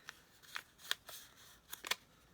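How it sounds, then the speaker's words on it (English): Scissors snip a small piece from a sheet of planner paper, giving a few crisp, close cuts spaced unevenly with quiet rustling between. "I'm going to take this and I'm just going to cut a small piece"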